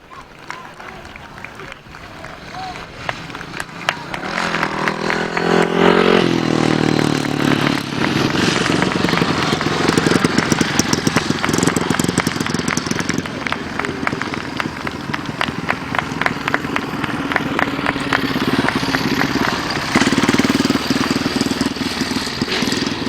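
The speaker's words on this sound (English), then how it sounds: "And a little celebration wheelie from Paul Hurry." Grasstrack racing motorcycles rev loudly close by, engines rising and falling in sustained roars with a crowd and commentary underneath.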